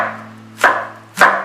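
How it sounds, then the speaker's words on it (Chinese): A knife chops garlic on a board, with two distinct sharp thuds about half a second apart, close and crisp, against a faint background hum. "切点蒜末"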